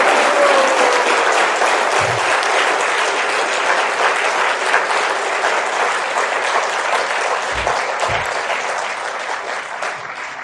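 Loud, dense applause from a seminar audience at a motivational talk, sustained clapping close and full for about ten seconds before easing slightly toward the end, with a few low thumps underneath.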